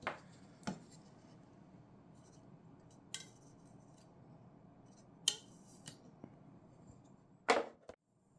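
Scissors snip both ways across the tip of a part while building a Zippkits JAE 33FE SAW Run model plane: a handful of sharp, separate cuts spaced out over a quiet room.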